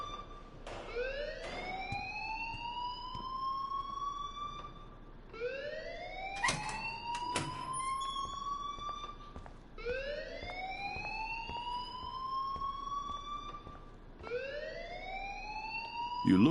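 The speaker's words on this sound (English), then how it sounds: "please turn off that alarm since that's your job" A school alarm in the video game Life Is Strange wails in repeated rising siren sweeps, about four cycles at an even pace, loud and steady with no speech over it.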